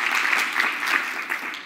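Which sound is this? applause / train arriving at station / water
applause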